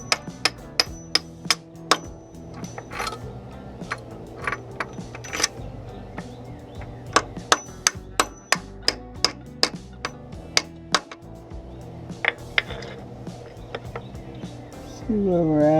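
Repeated sharp hammer blows drive a washer into the bellhousing of a Willys CJ-2A jeep while a starter bushing is being replaced, with irregular metallic strikes close up and clustered in bursts over a steady low shop hum.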